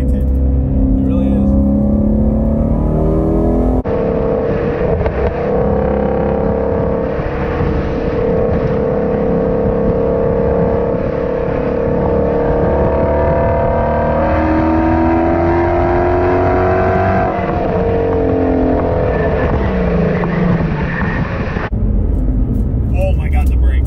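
Ford Mustang Shelby GT350 engine droning steadily and loud from inside the cabin while being driven, with pitch rising and falling through shifts and people talking over it.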